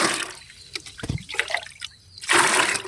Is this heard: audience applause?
no